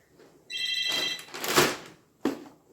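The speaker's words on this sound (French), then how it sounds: "mon téléphone fixe qui sonne" A home landline telephone rings with one electronic tone burst followed by a louder noisy ring and a brief final clatter, close and clear with nobody speaking.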